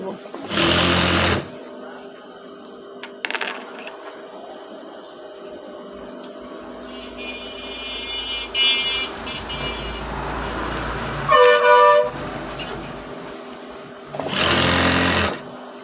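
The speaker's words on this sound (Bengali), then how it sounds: "এভাবে আমি পুরোটা সেলাই দিয়ে নিচ্ছি" A sewing machine stitches elastic onto a salwar waistband in short bursts of loud, fast whirring, broken by pauses with quieter handling noise and a brief high-pitched squeal from the machine.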